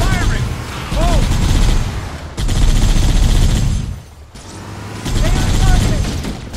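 Rapid bursts of gunfire in Halo: Combat Evolved, loud and dense automatic fire in two long volleys with a short lull between, while voices shout over the shooting.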